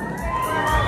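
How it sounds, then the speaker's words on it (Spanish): A crowd at a norteña dance contest in Fort Worth, Texas, cheers and whoops for a dancing couple in a short, loud, dense burst of shouting voices. "Aplausos para la parejita número 5."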